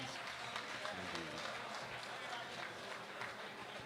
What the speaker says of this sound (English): can we get a big round of applause for Paradigm Spin?